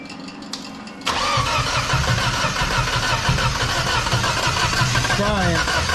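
An engine on a weak battery that has sat unused for a while is cranked. A brief clicking and whirring comes first, then a loud, sustained rhythmic cranking churn close by, with voices over it.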